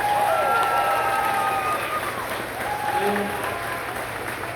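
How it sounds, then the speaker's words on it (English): Audience applause at a campaign event in a club hall, thanking volunteers: a dense, loud burst of clapping from a crowd that slowly thins and fades, with a voice briefly speaking over it. "Let's give them a round of applause."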